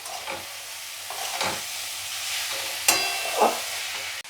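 Vegetables with cubed paneer stirred in a pan, a soft sizzle underneath a few distinct scrapes and clacks of the spatula, with a sharper knock near the end, close by and alone without talk.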